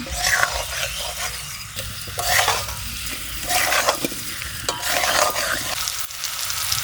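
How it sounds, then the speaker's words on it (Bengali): Jackfruit and shrimp masala sizzles steadily in a pan while being stirred. The loud, continuous frying hiss is broken by repeated scraping strokes of a utensil against the pan, and no one speaks. "কষানো প্রায় হয়েই গেছে আর একটু কষিয়ে জল দিয়ে দেব"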